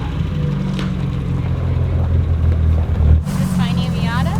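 A Mazda Miata engine idling with a steady low rumble, then revving up sharply near the end, loud and close, with someone talking over it.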